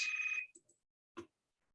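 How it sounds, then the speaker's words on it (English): A telephone rings once with a bright electronic tone that cuts off, followed by faint short chirps and a brief clatter in an otherwise quiet room. "Stop ringing. Somebody answer it."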